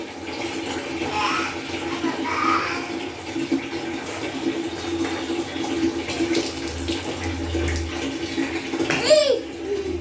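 Water runs steadily from a tap into a bath as it fills, a continuous broadband rush at moderate level, with a voice and an adult speaking over it and a brief squeaky sound near the end.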